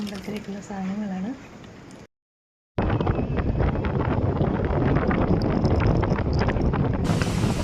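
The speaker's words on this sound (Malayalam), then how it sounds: "നല്ല കാറ്റടിക്കുന്ന സൗണ്ടാണ് കേട്ടോ. സ്പീഡിൽ വണ്ടി പോകുമ്പോൾ അതിൻ്റെ സൗണ്ടാണ് ഈ കേൾക്കുന്നത്." Wind rushing past a vehicle travelling at speed on the way to a temple: a dense, steady roar at close range, preceded by a short stretch of voice and a moment of silence.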